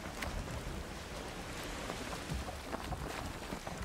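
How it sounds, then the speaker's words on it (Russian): Continuous rain in the video game Valheim, pattering on surfaces in a dense hiss with scattered louder drops, steady throughout and without speech. "Еще и дождь, отлично."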